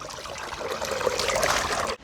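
Cold water trickles and splashes steadily close by outdoors near a paved road, a continuous bubbling flow that cuts off abruptly at the end.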